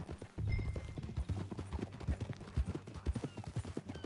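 Horse hooves clip-clop at a steady riding rhythm in the video game Red Dead Redemption 2, with close, moderately loud repeated hoofbeats throughout and no talk.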